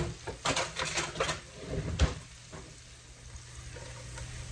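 Onions fry in a pan with fresh rosemary and thyme, giving a soft steady sizzle beneath a few clattering knocks and stirring scrapes of utensils against the pan early on, then calmer frying.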